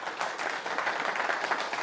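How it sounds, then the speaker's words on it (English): Steady applause from a conference audience at a security event's main stage in Newcastle, a dense wash of many hands clapping at once, with no talking. "can we all give him a big round of applause,"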